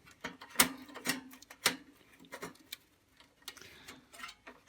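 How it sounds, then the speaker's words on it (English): Metal bar slid back over the element assembly of a Dualit toaster, giving a few sharp, close metallic clicks and scrapes with light rattling between them, no voices. "Then I'm going to slide this bar back over."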